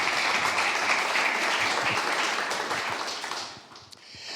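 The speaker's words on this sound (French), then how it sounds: "On peut les applaudir bien fort." Audience at the Prix Chronos 2023 award ceremony breaks into sustained, dense applause from a large crowd, steady and loud before thinning out toward the end.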